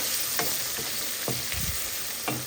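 Onion, dried chilli, cumin, ginger and garlic frying in a pan for dal, stirred in a few separate scraping strokes over a constant bright sizzle, close up with no speech.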